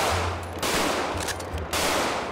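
Rapid gunfire at a shooting range in the video game GTA 5 role-play, heard as dense, loud automatic bursts in two or three close strings with brief pauses between, with no talk over it.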